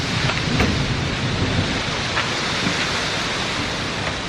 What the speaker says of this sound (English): It's pouring rain out there.